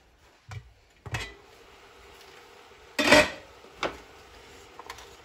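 A pot lid goes onto a pan of shrimp sautéing for a Salvadoran mariscada, landing with a loud metallic clang among a few lighter clinks of cookware, close and separated by pauses.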